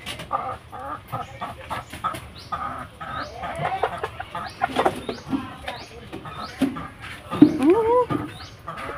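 A sick hen clucks in short, repeated bursts nearby while being fed, mixed with other fowl sounds and people talking in the background.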